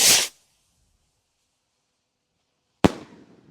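Two loud firework bangs, one at the start and another a few seconds later, each a sharp blast followed by a brief crackling decay, separated by near silence.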